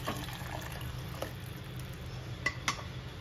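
A kadai washed by hand after cooking vegetables: faint running water and soft scrubbing, with a few sharp clinks of metal near the end.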